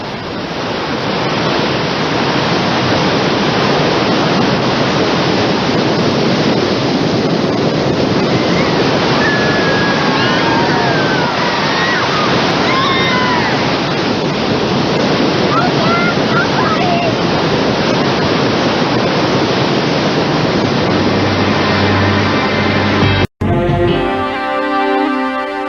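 Swift, churning rapids on the Salmon River roar as a steady broadband rush of water close by, then cut off abruptly near the end.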